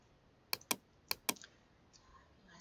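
Computer keyboard keys pressed during a Photoshop CC lesson: a few quick, close clicks, grouped in pairs, then a single tap, over a quiet background.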